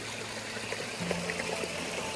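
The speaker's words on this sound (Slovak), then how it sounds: "Prvým vodopádom, ktorý sa nachádza v Kláštorskej rokline, je Strakov vodopád." Strakov waterfall in Kláštorská gorge, Slovak Paradise, gives a faint, steady rush of falling water, continuous and unbroken throughout.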